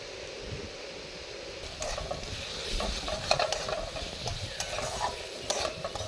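Ground spices (turmeric, cumin, coriander, Kashmiri chilli and salt) fry in a pan while a spoon stirs and scrapes them, producing a continuous close sizzle with irregular scraping clicks and no voices.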